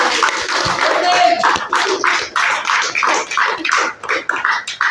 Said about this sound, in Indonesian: Jadi kita berikan aplaus tepuk tangan untuk Husni yang telah mewakili